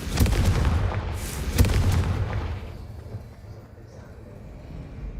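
A Confringo fire spell detonates in Hogwarts Legacy, a couple of loud booming blasts in the first two seconds, then a rumbling decay that fades into quieter ambience.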